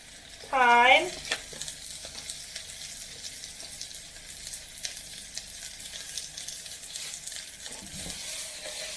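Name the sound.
sautéing herbs and aromatics for chicken fricassée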